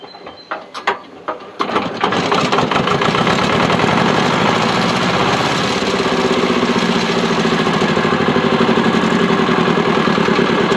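Engine of a Thwaites Tusker dumper cranking over against cylinder compression: a few uneven thumps at first, then a loud continuous churning mechanical drone that holds steady to the end.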